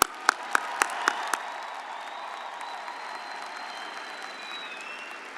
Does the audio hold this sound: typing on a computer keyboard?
no